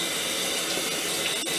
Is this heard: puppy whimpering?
no